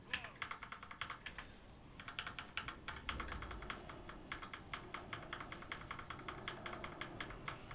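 Loud computer keyboard clacks in rapid, uneven bursts of typing, close and fairly faint overall, with a brief pause near the start.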